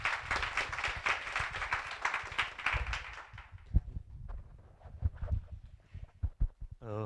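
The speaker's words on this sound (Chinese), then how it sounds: "掌声给他，谢谢" Audience at the g0v Summit 2018 panel on mistrust and technology claps to welcome the first speaker: dense, brisk clapping for a few seconds that thins into scattered, sparser claps.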